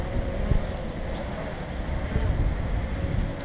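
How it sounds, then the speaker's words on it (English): Strong wind buffets the microphone during a DJI Mavic 2 Pro drone flight outdoors, a steady low rumble with gusty swells, no voices. "Wind."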